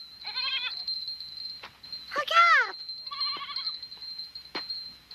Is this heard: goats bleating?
yes